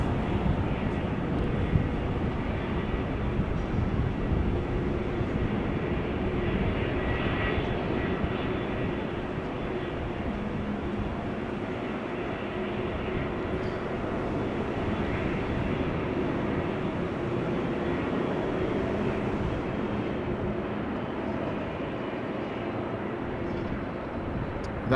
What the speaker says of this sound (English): That is flying as KLM Flight 682, having arrived from Vancouver, Canada.